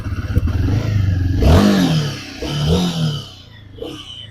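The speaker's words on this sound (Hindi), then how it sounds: "आप एग्जॉस्ट नोट को सुन लेते हैं, किस तरह का एग्जॉस्ट नोट मिलता है इस गोरिल्ला 450 के साथ" A Royal Enfield Guerrilla 450 motorcycle engine blips up in two quick revs from a low idle, a close, throaty exhaust note that rises and falls before settling back.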